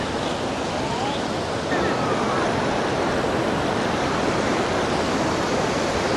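Water rushes continuously through the shutter of Thamaraipakkam dam near Chennai, a loud, close, broadband roar like surf that stays steady throughout without pause.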